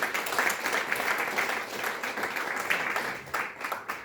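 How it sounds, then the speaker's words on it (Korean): Sustained applause from an audience at an international forum opening, a dense steady wash of many hands clapping throughout, with no talking over it. "여러분 큰 박수로 환영해 주시면 감사하겠습니다"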